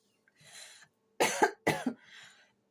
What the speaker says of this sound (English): Like I began to cough after saying that.